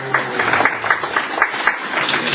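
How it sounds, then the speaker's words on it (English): An audience at a public workshop for landowners gives continuous, dense applause, loud and close, a steady patter of many hands with no pause. "So give yourselves a round of applause."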